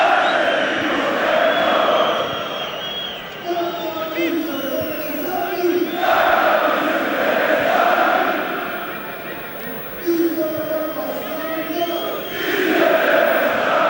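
The home crowd at a Dinamo Zagreb football match against Arsenal roars and chants in waves, a massed distant din swelling and easing over the stretch.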